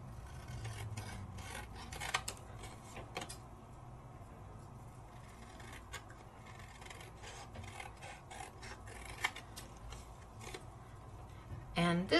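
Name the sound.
trimming a paper craft panel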